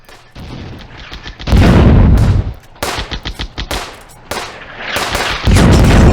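Gunfire in the WW2 real-time strategy game Firefight: loud bursts of machine-gun fire and heavy booming shots, rapid rattling volleys alternating with deep blasts, close and forceful.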